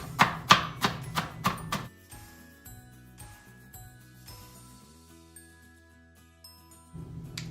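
Knife chopping vegetables for a slow cooker turkey chili on a cutting board, six or seven sharp, close rhythmic chops at the start, followed by quieter kitchen clatter and faint tinkling.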